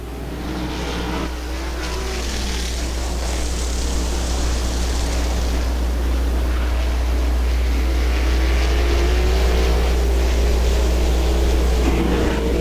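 Sprint cars race at Butler Motor Speedway during a 2001 qualifier, their engines a loud, continuous roar that builds and holds steady, with no one talking over it.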